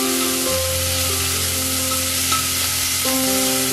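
Small shrimp and shallots fry in a little oil, giving a steady, loud sizzle with stirring over a constant tonal hum, and no talking.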